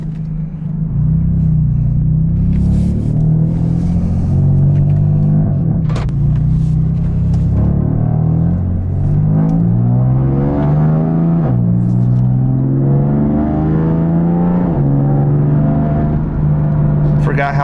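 A BMW F80 engine runs steadily while warming up, a loud continuous rumble heard from inside the car, with its pitch gently wavering up and down throughout.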